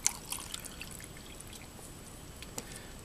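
Preheated water poured for instant coffee with an MRE meal, a faint, quiet trickle and splash with a few small drips and clinks, close by and with no talk.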